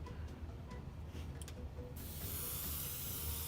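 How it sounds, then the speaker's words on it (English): An airbrush sprays leftover thinner through its chamber as a test, a faint background hum giving way to a steady breathy hiss that starts partway through and continues to the end. "you want to spray that through"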